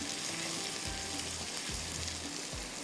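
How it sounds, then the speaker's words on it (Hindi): Ingredients for a coconut prawn curry fry lightly in a pan, giving a steady close sizzle with a few soft stirring scrapes and no talking. "हल्का सा फ्राई।"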